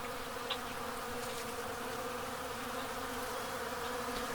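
Honey bees droning steadily around a flow hive as a total solar eclipse darkens the sky, a dense continuous buzz with no talk.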